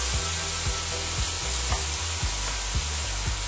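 Shallots browning in a frying pan, a loud continuous sizzle with a regular series of low scraping knocks as they are stirred, no talking.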